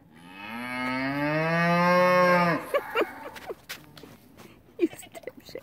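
A sheep gives one long, loud, close bleat lasting over two seconds, followed by scattered rustling and small handling noises nearby.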